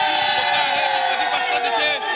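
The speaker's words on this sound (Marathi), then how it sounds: "नक्कीच आपण पाहू शकतो का कशा प्रकारे इथे जल्लोष सुरू आहे." A street crowd in Chembur, Mumbai cheers and whoops continuously, celebrating India's Asia Cup final win over Pakistan, with shouts and dense crowd noise filling the air throughout.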